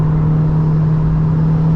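Honda Civic Type-R FK2 engine holds a steady, loud droning hum with a deep low rumble while being driven hard around the Nürburgring, heard from inside with no voices over it.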